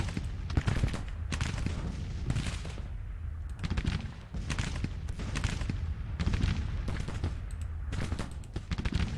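Civil War battle gunfire and artillery in the Grand Tactician strategy game at Antietam, a dense, continuous crackle of musketry with heavier booming shots mixed in, loud and sustained throughout with no talking.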